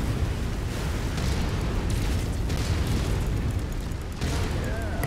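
Destructible objects blow up in the mech combat game MechWarrior 5: Mercenaries, a dense run of booming explosions and bursts layered over a continuous loud rumble for several seconds.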